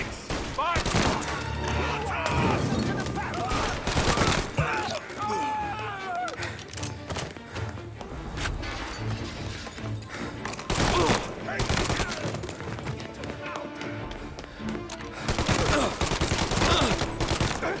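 Dense gunfire from the Mafia: Definitive Edition video game: sustained rapid shots and bursts run through the whole stretch, loud and close, with voices shouting over the firing.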